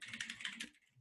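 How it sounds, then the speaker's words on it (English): Quick clattering keystrokes on a computer keyboard during an online session, a dense run of close, moderately loud clicks that tapers off into near silence at the end. "I can't freaking type."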